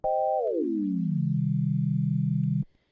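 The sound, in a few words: synthesizer pitch sliding sound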